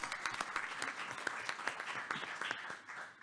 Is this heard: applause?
yes